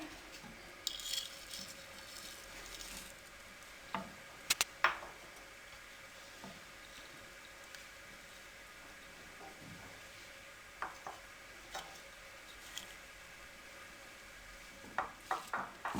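A metal spoon stirs semolina and egg halwa with dry fruits in a wok on the stove, producing sporadic scraping clinks and taps over a faint sizzle, fairly quiet and close.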